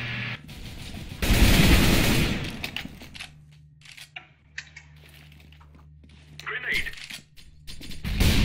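Gunfire in Counter-Strike: Global Offensive, a dense burst of shots up front followed by scattered sharp clicks and pops, with a low steady hum and more bursts near the end.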